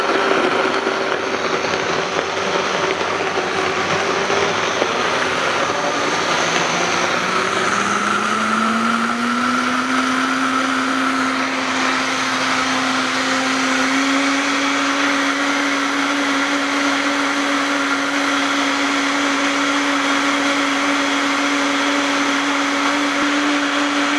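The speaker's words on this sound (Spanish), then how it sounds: "ahora lo que vamos a hacer es simplemente licuar" A countertop blender runs steadily for about twenty-four seconds, blending plant-protein waffle batter. Its whirring motor pitch rises and settles partway through, loud and close, with no talk.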